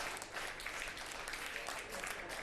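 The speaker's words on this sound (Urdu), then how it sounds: "یہ تالیاں کس پر بجی ہیں؟" A studio audience at a televised Pakistani show applauds in a dense, steady wash of clapping that holds loudly throughout.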